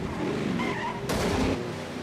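Race car spinning out in a Charlotte Motor Speedway racing video game, a brief loud tire squeal and skid over the steady engine roar, with a sharp burst midway.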